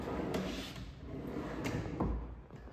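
A large drawer in a simple laundry cabinet slides open or shut, giving a soft wooden rumble with a couple of light knocks. It sits over a steady background hiss, and no one speaks.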